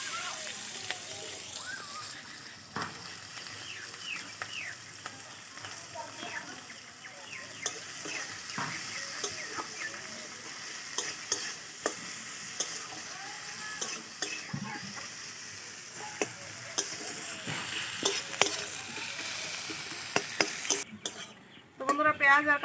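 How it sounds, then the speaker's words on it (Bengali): Chopped onion and green chilli fry in hot oil with a bay leaf, a steady sizzle running throughout while a utensil repeatedly scrapes and stirs against the pan, ending in a few louder clatters. "এখন দিয়ে দেবো পেঁয়াজ কুচি আর কাঁচা লঙ্কা কুচি।"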